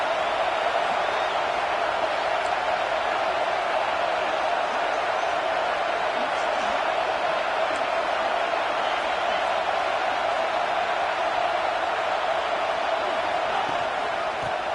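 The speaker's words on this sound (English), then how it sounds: "this crowd is fired up. Listen to this noise here" A packed stadium crowd at an Auburn vs Clemson college football game keeps up a dense, steady roar throughout, loud and unbroken with no individual voices standing out.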